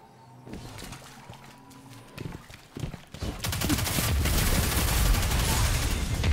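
Riskrunner submachine gun fire in a Destiny 2 multiplayer match, starting with scattered game sounds and then rolling into loud, sustained rapid bursts that fill the second half.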